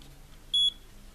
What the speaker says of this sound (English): Little beep.